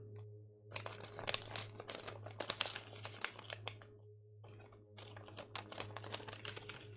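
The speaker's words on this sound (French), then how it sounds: "on va ouvrir l'enveloppe maintenant" Paper envelope torn open and crinkled by hand indoors, close, quiet bursts of crackling and rustling with short pauses between them, over a low steady background hum.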